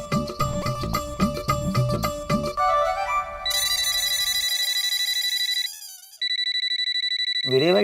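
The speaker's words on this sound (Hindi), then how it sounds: "वीरे भाई का कॉल इतनी रात को?" A phone rings late at night with an incoming call, a bright electronic ringtone that plays in repeated melodic bursts after some music, loud and close, with brief gaps between phrases.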